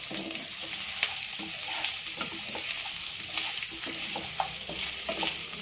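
Paneer biryani masala frying on a low flame, a steady close sizzle with scattered scraping and stirring clinks against the pan, running continuously and without talk.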